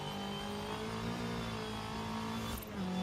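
A racing car engine in Forza Horizon 5 holds a steady high drone through an inertia drift, its harmonics sliding slightly as revs shift, with a brief dip near the end.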